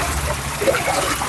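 Floodwater flowing through a flooded home area, a continuous trickling and splashing wash at moderate loudness, steady throughout with a slight swell midway.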